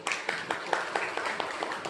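Scattered hand claps from a small audience, a steady patter of applause with sharper individual claps standing out at a fairly even pace.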